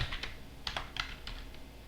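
Computer keyboard keys tapped while a password is entered, a handful of quiet, irregular clicks in small bursts, close and alone with no talking.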